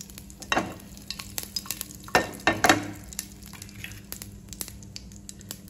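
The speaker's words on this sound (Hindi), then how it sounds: "इसमें मैं डालूँगी थोड़ा सा ऑयल। राई जीरा डालने के बाद में मैं डालूँगी हींग।" Mustard seeds, cumin and asafoetida are added to hot oil in a pan, giving crackling bursts and spoon-stirring scrapes over a low sizzle, with a few louder pops in the middle.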